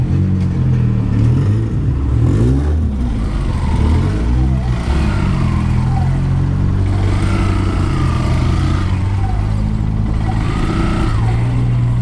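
While riding through São José dos Campos on a slope, a motorcycle engine hums low and steady as the rider slows down without throttle, with wind roar and passing traffic continuing throughout.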